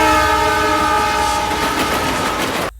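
A loud, sustained train horn blares steadily with rumbling rail noise beneath, then cuts off abruptly at the end.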